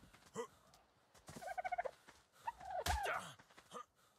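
Turkey gobbling in the ARK Omega mod video game: a rapid burst of rattling gobbles rises in the middle, followed by further squawky calls, with scattered game sound effects around them.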